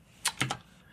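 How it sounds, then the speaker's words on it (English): Three quick keystrokes on a computer keyboard while code is being entered, crisp close clicks in a short uneven burst, no voices. "let me just go ahead and start typing"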